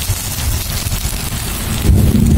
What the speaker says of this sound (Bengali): দেখেছো মেঘ ডাকছে কিভাবে, আর বাইরে তো সেই বৃষ্টি হচ্ছে, দেখো ভীষণ বৃষ্টি হচ্ছে বাইরে